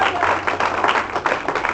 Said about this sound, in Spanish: Denle otro aplauso al Señor.